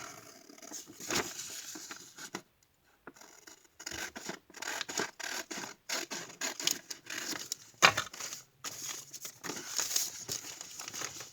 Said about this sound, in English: I'm going to grab my big scissor here and I'm just going to cut this